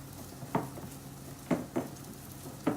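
Crab cake patty frying in a pan, making a low, steady sizzle with three sharp utensil taps or pan clinks at intervals and no talking.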